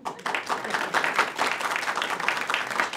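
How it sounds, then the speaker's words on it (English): A live television studio audience applauds, a steady, moderately loud wash of many hands clapping that lasts the whole stretch without pause. "And keep that applause going for Banjo."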